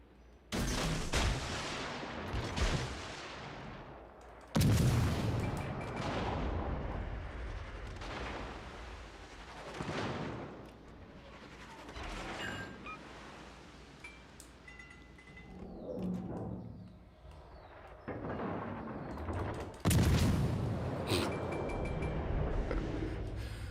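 Heavy naval gunfire from warships in a World of Warships battle: repeated booming salvos with long rumbling tails, some close and loud, others more distant, spaced a few seconds apart.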